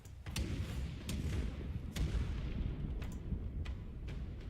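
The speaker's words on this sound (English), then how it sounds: "Let's see if I fire my cannons now." Ship cannons fire in a naval battle in Pillars of Eternity II: Deadfire, a rapid volley of sharp booms spaced across a low, continuous rumble, fairly faint and without voices.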